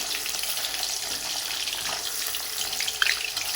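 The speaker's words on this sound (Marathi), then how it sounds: "असं करून सगळं पनीर तळून घ्यायचं" Close, steady sizzling of paneer frying in oil in an iron wok, a busy crackle throughout with a few sharper spits and a light clink near the end.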